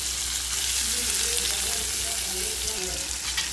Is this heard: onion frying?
yes